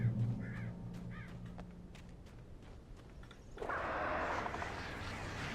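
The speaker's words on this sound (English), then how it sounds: "Oh, birds." Crows in the Alan Wake video game giving two short, harsh caws at moderate distance, followed by a steady rushing ambience and scattered footstep-like taps.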